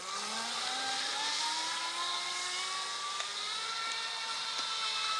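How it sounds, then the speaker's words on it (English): A Thrasher XL RC jet boat with an upgraded 6S setup at full throttle, its motor letting out a loud, continuous high-pitched whine that climbs steadily in pitch as it speeds up, with no voices. "Full throttle for a jet boat."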